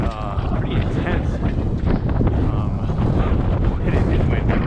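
Strong, constant wind off the water in New York City roars and buffets the microphone, a dense low rumble with no letup throughout.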